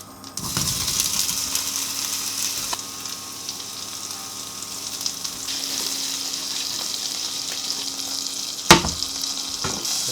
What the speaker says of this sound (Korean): 다시 버터를 넣어줄 거예요. 버터를 거품 날 때까지 좀 가요